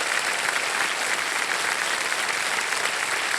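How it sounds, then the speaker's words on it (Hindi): Studio audience applauding a quiz show contestant, a steady dense clapping wash that stays loud and even from start to finish. "ताली बज जानी चाहिए इनके लिए"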